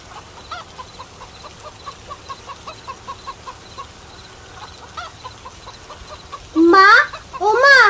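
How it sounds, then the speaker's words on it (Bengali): Cartoon chickens break into loud, squawking clucks near the end, two bursts close up after a quieter stretch of faint rhythmic background sound. "মুরগিগুলো চেঁচামেচি করছে, মনে হয় খুব খিদে পেয়েছে ওদের।"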